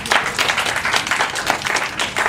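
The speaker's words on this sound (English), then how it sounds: "Everybody give them a big round of applause." A workshop audience in an office breaks into a round of applause, dense and steady clapping from many hands, fairly loud and close, sustained throughout with no talking over it.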